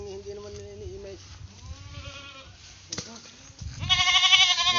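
A farm goat bleats in several drawn-out, wavering calls, the last one loud and close, while people chat quietly nearby.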